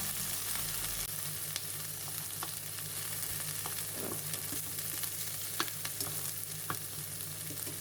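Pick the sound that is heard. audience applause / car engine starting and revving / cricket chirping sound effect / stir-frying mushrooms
stir-frying mushrooms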